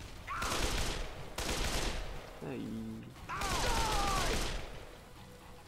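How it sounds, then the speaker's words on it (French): Rifle fire in the zombie game Dead Island: several loud bursts of broadband gunfire across the clip, separated by short gaps, with a brief pained exclamation and a voice in between. "C'est quoi ce fusil? Il tire à moitié seul, c'est bizarre."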